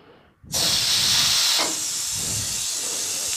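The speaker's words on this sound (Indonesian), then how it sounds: "kita membuka peluitnya agar uap gas panas keluar" A sudden loud, continuous hiss of steam rushing out of a pressure cooker valve, close by, starting abruptly and holding steady.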